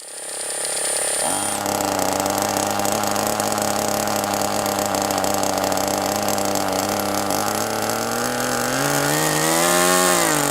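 An OS Max 21 FSR glow-fuel model engine fires up after a short quiet start and runs at a steady, high-pitched buzzing whine, loud and close, then its pitch rises and wavers near the end as it revs.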